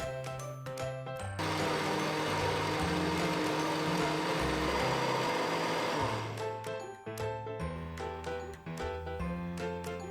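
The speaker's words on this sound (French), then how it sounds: "Et vous allez mixer le tout." Blender puréeing tomatoes and onion with a glass of water for harira, a sustained motor roar in the middle, with clattering and handling noises before and after.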